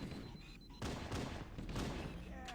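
Gunfire in Halo: Combat Evolved on Legendary difficulty, a dense, sustained burst of shots rattling through the game's ambience at moderate loudness.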